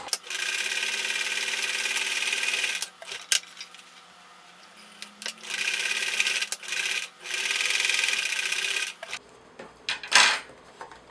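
A sewing machine stitches a fabric face mask pocket in steady, buzzing runs of a few seconds each, stopping and starting several times, close and fairly loud, with a couple of clicks and handling noises near the end.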